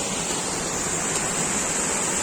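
Boburu Ella waterfall in Sri Lanka, heard as a dense, steady roar of falling water that is close and loud and continuous through the brief stretch.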